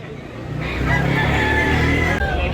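A gamefowl rooster at a sale in Tabunok, Talisay, Cebu lets out one long, loud crow close by, rising and holding before cutting off, with faint background rumble.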